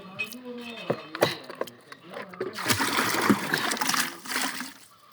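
Water splashes as a bucket is hauled up from a household well during well cleaning, a loose watery sloshing that swells through the second half, with people talking nearby.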